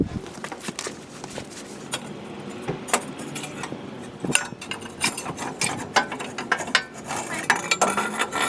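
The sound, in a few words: 1/2-inch socket wrench ratcheting on exhaust Y-pipe bolts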